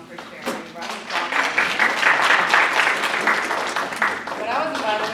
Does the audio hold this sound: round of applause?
yes